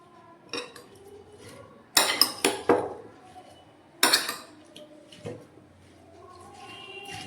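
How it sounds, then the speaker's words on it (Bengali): A steel spoon clinks and scrapes against a bowl while guava is mashed and mixed. Several sharp metallic knocks come in bursts, close and fairly loud, with quieter scraping between them. "আমি স্টিলের চামচ দিয়ে মাখছি।"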